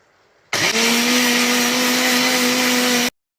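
A kitchen mixer grinder whirs loud and steady, grinding coconut for mango pulissery, starting abruptly and running for about two and a half seconds before cutting off, close and alone.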